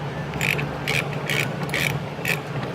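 A ratchet socket wrench clicks in five evenly spaced bursts while working the oil drain plug on a 2004 Volkswagen Touareg V8, close and crisp over a low steady hum.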